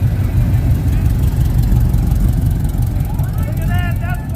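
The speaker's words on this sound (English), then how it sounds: "this is so neat to see these vehicles leave and hearing how loud they can be" Loud show cars pulling away from a local car show, a steady heavy engine rumble throughout with some mixed voices and tonal noise near the end.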